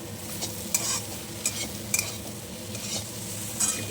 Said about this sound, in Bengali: মিডিয়াম টু লো ফ্লেমে নাড়াচাড়া করছি